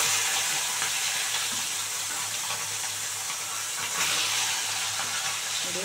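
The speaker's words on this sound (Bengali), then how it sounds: "এই যে বড় সাইজের কই মাছ, বেশি বেশি করে অনেকগুলো করে করে ভেজে নেব একবারে" Large koi fish, several at once, sizzle in hot oil with a steady, dense hiss that holds at an even, fairly loud level throughout, with no voices.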